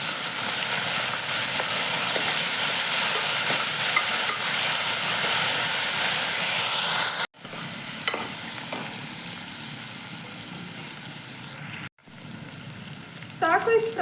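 Mint and coriander sizzling in hot oil for mutton keema, a loud, continuous frying hiss with stirring, broken by two brief silent gaps.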